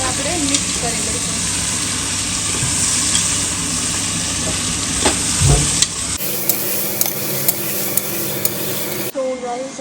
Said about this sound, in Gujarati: તો હવે આપણે એમાં ટમેટો નાખી દઈશું અને સાથે સાથે બટાકું પણ નાખી દઈશું અને બધાને હવે આપણે મિક્સ કરી દઈશું